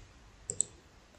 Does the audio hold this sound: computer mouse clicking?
yes